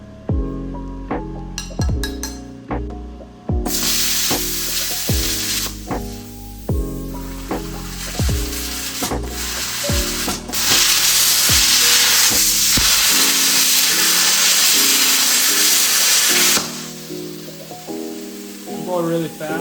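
An ANDELI CUT-65DS 65A plasma cutter slices through 1/8 inch steel, a loud continuous hissing roar of the arc that runs steadily for several seconds, with other sounds before and after the cut.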